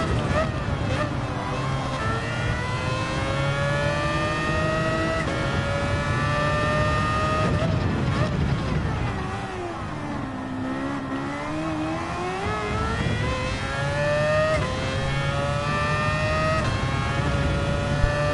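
A high-pitched 1980s Formula 1 car engine in Gran Turismo 7 whines and climbs through revs, with gear shifts and swooping pitch changes, while someone talks underneath.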